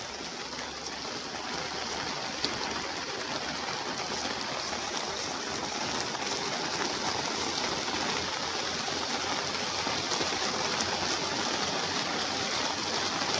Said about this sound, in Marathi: पाणी बघा किती साचले, भरपूर पाणी वाहतंय